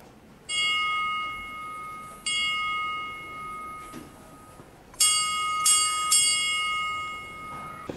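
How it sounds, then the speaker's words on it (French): A bell at Predjama Castle in Slovenia rings in three separate bouts, each a bright, sustained metallic strike with a long ringing decay, the last bout struck in a few quick repeats. "la cloche servait autrefois à sonner l'alerte en cas de danger et pour annoncer la préparation aux éventuels combats"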